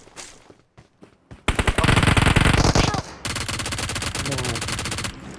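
Automatic weapon fire from PUBG Mobile, with a few sparse shots giving way to long, loud sustained bursts of rapid gunshots that carry on almost without pause.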